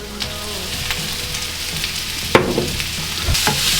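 Pineapple frying in a pan for sweet and sour loin pork, a steady close sizzle with occasional stirring scrapes and clatters.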